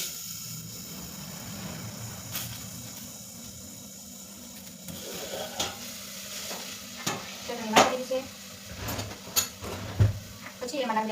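Chutney goes into a pan of asafoetida and is stirred, a steady sizzle broken by sharp spoon scrapes and clanks against the pan, louder toward the end, while a person talks over it.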